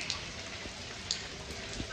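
Steady rain falls outdoors at Ranthambore National Park in Rajasthan, a dense even hiss with a few faint drip ticks and no talk.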